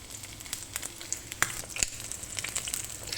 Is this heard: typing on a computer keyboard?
no